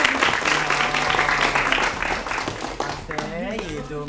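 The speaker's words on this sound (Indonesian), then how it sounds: "Nah, tepuk tangan dulu." Applause and clapping ring out from a school audience at an SMK Muhammadiyah 3 Palembang event, steady for about three seconds before fading as a voice begins to speak.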